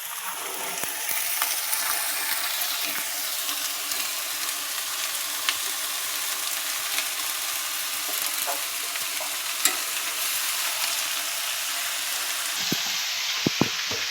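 Cut taro pieces frying in oil in a kadai, a steady dense sizzle and crackle close by, with occasional sharp pops and stirring clinks toward the end.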